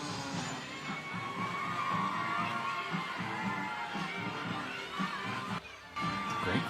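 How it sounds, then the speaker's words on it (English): Packed home crowd at a Friday night high school football game between Sanger and Kingsburg, a steady distant roar of voices, shouts and cheering with scattered yells, nearby talk on top. "Great crowd tonight, man."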